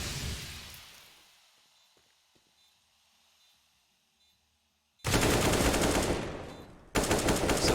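AK rifle gunfire in Counter-Strike during a match on the Overpass map: a decaying shot tail fades out, then two loud, dense bursts of automatic fire crash in near the end, close and harsh.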